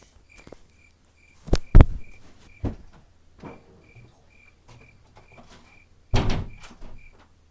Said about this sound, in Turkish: bir kapıyı açtım artık